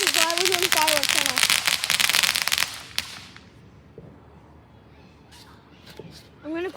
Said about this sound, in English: This is why we're doing fireworks right